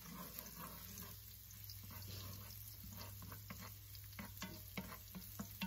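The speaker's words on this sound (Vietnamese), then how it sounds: "mình đợi dầu cho nóng rồi thì mình cho tỏi băm vào" Minced garlic sizzles in hot cooking oil in a pan, a steady close crackle with scattered spatters and light stirring scrapes, with no talk over it.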